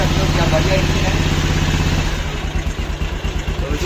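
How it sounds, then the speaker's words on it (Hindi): A Bajaj Pulsar 220 motorcycle engine, running during a restoration, idles with a loud, steady, throbbing rumble that grows slightly uneven toward the end, heard close up with someone talking over it. "तो गाड़ी तो चालू है, एकदम चालू हो चुका है, इंजन भी देख सकते हो क्या बढ़िया इंजन है।"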